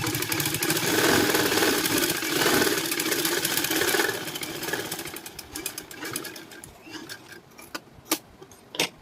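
An electric sewing machine stitches a seam on a high neck blouse, giving a steady close whirring run that stops partway, followed by scattered light clicks and taps from handling the fabric.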